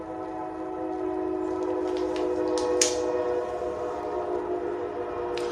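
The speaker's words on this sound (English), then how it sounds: "Hope y'all didn't hear that train." A train passes outside with a constant low rumble, its horn sounding a sustained chord of tones at moderate distance, with a few faint higher squeaks.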